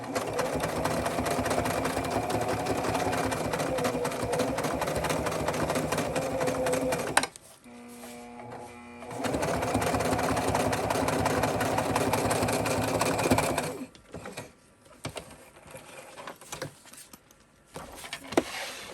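A sewing machine runs in steady, loud bursts as it stitches along lined-up fabric edges, stopping briefly in the middle before starting again, then falling quiet near the end.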